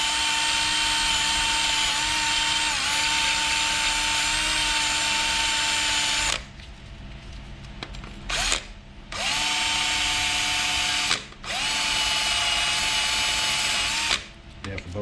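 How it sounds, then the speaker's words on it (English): A drill-mounted wire wheel scrubs rust off a front brake rotor on a 2011–2022 Jeep Grand Cherokee, giving a loud steady whine for several seconds, then short bursts separated by brief pauses. "Bunch of rust right here, so we use a wheel and get all that rust off."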